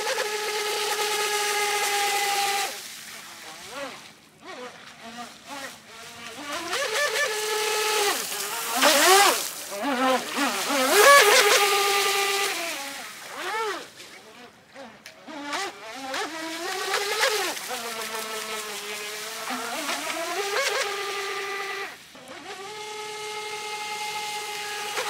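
M-Jet Supersprint RC jetboat motor at full throttle, a loud high-pitched electric whine that rises and falls in pitch as the boat speeds and turns, with a splashing water wash underneath.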